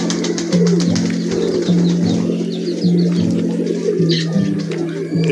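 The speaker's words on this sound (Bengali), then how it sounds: "এই কবুতরটার কালারটা খুব সুন্দর" Pigeons at feeding time coo close by in a steady repeating rhythm, soft throaty calls rolling one after another with faint rustling and chirps around them.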